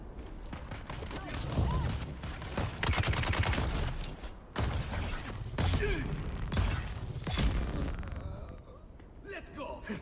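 Turret in the Dune Awakening video game firing at NPCs, rapid bursts of gunfire and sharp cracks in quick clusters, under a speaking voice.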